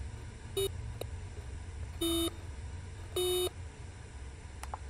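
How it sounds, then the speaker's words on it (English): Electronic beeps in the horror video game Nightstars: three short tonal bleeps at a steady interval, the later two longer, set over a low background hum with faint clicks. "I just like making the beep beep sound."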